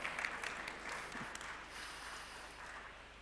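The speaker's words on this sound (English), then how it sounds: "Okay, give him an applause." An audience at a medical conference applauds, a short burst of soft, fairly distant clapping that tapers off.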